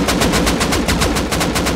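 Gunfire in the survival video game Rust, a rapid, steady automatic burst of about a dozen loud shots lasting under two seconds, with no voices.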